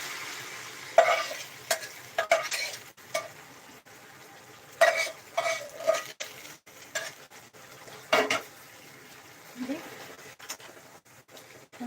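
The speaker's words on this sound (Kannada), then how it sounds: "ಒಗ್ಗರಣೆ ಹಾಕೊಂಡಿದ್ವಲ್ಲ ಅದನ್ನ ಇದರಲ್ಲಿ ಮಿಕ್ಸ್ ಮಾಡ್ಬೇಕು" A spoon stirs tempering into chicken chops in a pan, with irregular metallic scrapes and clinks and a light sizzle in between, close and fairly quiet.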